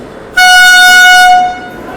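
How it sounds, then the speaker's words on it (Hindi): Ranchi Rajdhani Express train horn blaring at an Indian railway station, a single loud sustained blast of about a second that fades out against steady platform background noise. "रांची राजधानी अराइव कर रही है।"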